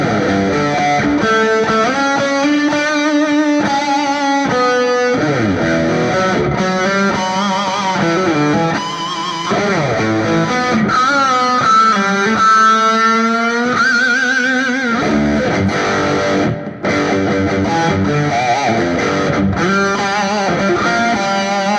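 Tube amplifier electric guitar lead tone with reverb through a Two notes Captor X plays continuous distorted melodic lines, bends and sustained notes, loud and close with no talking.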